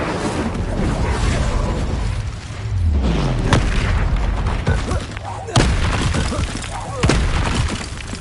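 An Incendio fire spell is cast in the video game Hogwarts Legacy, giving booming bursts and sharp cracks over a dense, loud battle din, with a voice shouting in the mix.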